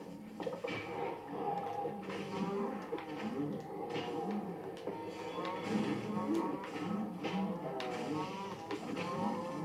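Several cows moo repeatedly in the Minecraft Dungeons video game, overlapping low lowing calls in a busy, steady stream amid combat noises, close and continuous for nearly ten seconds.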